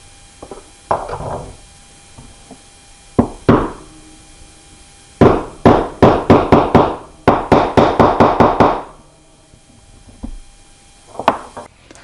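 A square wooden peg is hammered into a hole, in bursts of sharp wooden knocks: two single blows, then two fast runs of roughly eight strikes each, and a final pair, loud and close, with a faint hum underneath.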